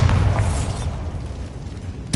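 Bombarda blasting spell in Hogwarts Legacy sets off a loud, close booming explosion that rumbles and slowly fades, with a short sharp pop right at the end.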